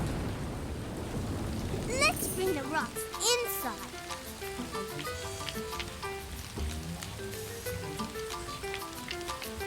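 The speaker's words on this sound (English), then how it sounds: "It's raining. We can play in the rain." Cartoon rain falls steadily with rumbles of thunder, under a child's speech and light background music, staying fairly soft throughout.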